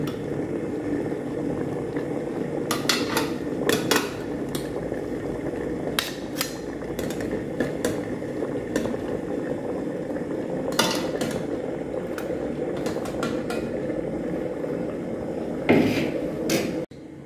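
Steamed chicken momos are lifted out of a multi cooker in a hotel room and a fresh batch is set in, with scattered metal clinks and clatters over a steady low background hum, no talking.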